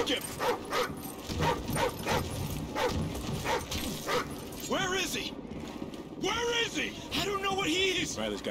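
A dog in a military shooter video game barks and whimpers in quick repeated yips, loud and close, with soldiers talking and mechanical game sounds alongside.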